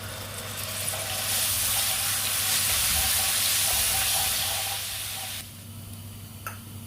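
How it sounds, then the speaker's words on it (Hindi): Ginger garlic paste fries in hot oil in a pan, a steady loud sizzling hiss that holds for about five seconds before dropping away to a quieter background with a faint clink. "एक पैन में ऑयल को ऐड करेंगे, फिर अदरक लहसुन का पेस्ट ऐड करेंगे। थोड़ा सा इसको भूनेंगे कि इसका कलर चेंज हो जाए।"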